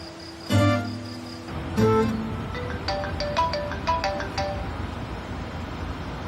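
Telephone ringing out on a call to Sinar: two bursts of an electronic ring tone, then a quicker chirping melodic ring pattern, close and fairly loud over a faint room hiss.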